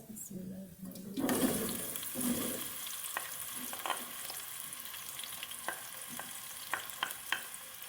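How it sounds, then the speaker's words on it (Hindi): Onions tipped into half a cup of hot oil in a pot on a lit stove, a base for beef tahari. A brief voice comes first, then a loud sizzle erupts and settles into steady frying crackle with occasional sharp clicks of stirring. "प्याज को थोड़ा सा फ्राई कर लेंगे।"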